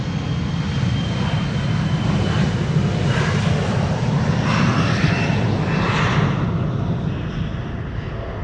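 Nippon Cargo Boeing 747 departing Amsterdam Schiphol for Milan, a loud continuous jet engine roar with deep rumble and broad hiss, steady and close for the whole stretch.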